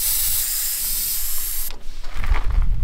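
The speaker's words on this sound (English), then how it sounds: "We've let a stack of air out of the tyres." Compressed air hisses steadily out of old four-wheel-drive tyres being let right down for traction, a loud continuous broadband rush that cuts off abruptly midway, followed by lower rumbling handling noise.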